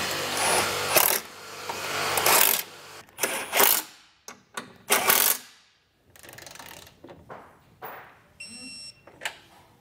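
Bursts of ratcheting and wrench clicks while tightening and torquing Westin R5 nerf bar bracket bolts on a 2023 Ram 2500, short close rattling runs separated by pauses.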